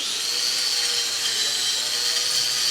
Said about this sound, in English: So I'm going to buff this off real quick with this nice DeWalt grinder and just see how this weld looks.